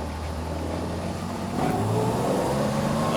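A black 1969 Jaguar E-Type pulls onto a road, its engine a steady, close low rumble that swells slightly as it accelerates, continuous throughout.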